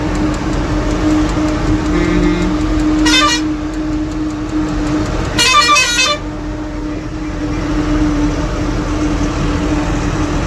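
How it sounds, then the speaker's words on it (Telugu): A vehicle horn honks in two distinct bursts, a short one and then a longer one, over steady road and engine noise from a vehicle being driven on a six-lane road while carrying a load of guava fruit. "చూస్తున్నారు కదా, హార్న్ కొడుతున్నాడు నేను తోలగలను అనేసి."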